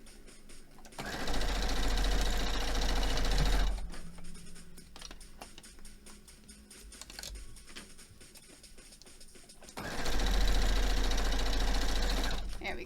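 A sewing machine runs in two steady, fast-stitching bursts while joining rows of a retro-gaming quilt-along block, with a quieter stretch between them.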